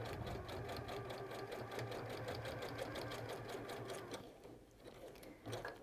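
A Juki sewing machine runs steadily stitching a wide zigzag, a close, continuous rhythmic whirring that eases off briefly near the end before picking up again.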